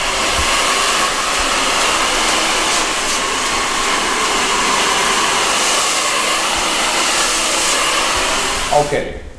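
A hair dryer roars loud and steady at close range while hair is blow-dried during a haircut, then cuts off abruptly near the end, leaving brief handling noise.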